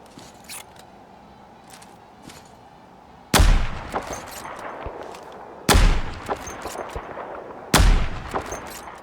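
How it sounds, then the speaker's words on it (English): Three heavy, booming sniper rifle shots from the video game Fallout 4 ring out a couple of seconds apart, each with a sharp crack and rolling echo, over quiet ambient background with faint clicks. "With each pull of the trigger, you can feel the raw power behind each shot"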